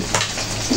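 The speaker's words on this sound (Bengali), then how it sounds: "মাছগুলো প্রায় ভাজা হয়ে গেছে," Pieces of shing fish frying in oil in a pan, a brief steady sizzle with light stirring and utensil scrapes.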